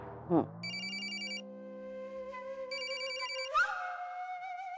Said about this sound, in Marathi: मग घ्या, फोन घ्या.